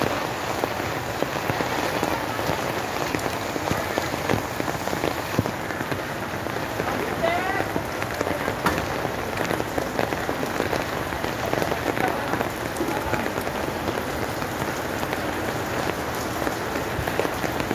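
Steady rain falls outdoors and patters densely on nearby surfaces, a continuous even hiss lasting throughout, with voices occasionally heard faintly beneath it.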